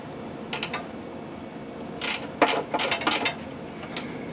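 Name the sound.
wrench removing a bolt from a mower baffle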